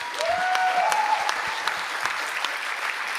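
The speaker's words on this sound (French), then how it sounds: "Donc j'aimerais bien que vous applaudissiez encore Esther Aberland," Applause from an audience at a French literary reading event, dense steady clapping throughout at moderate volume, with a brief faint whistle or voice early on and no clear speech.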